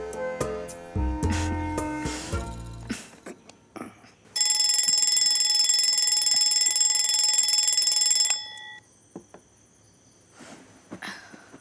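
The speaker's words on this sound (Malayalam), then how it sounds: "ഞാൻ അലാറം വയ്ക്കാം" An alarm clock rings loudly and continuously for about four seconds in a bedroom scene, preceded by a tonal musical sting and followed by faint rustling and a distant chime, with no talk.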